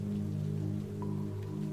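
Steady rain falls on a night street, a constant soft patter over a low hum that continues evenly throughout.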